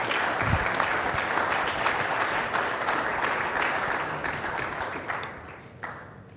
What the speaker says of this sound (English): I just want to give a round of applause for a panel and a great discussion